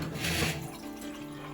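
Water runs from a home drinking-water filter tap in a short steady stream, loudest in the first half second and then settling to a softer flow, with no talking.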